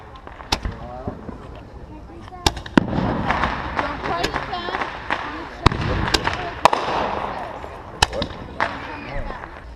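Sparkler bomb and other backyard Fourth of July fireworks, a string of sharp cracking bangs scattered across the stretch with hissing and crackle between them, loud and close, as people talk throughout.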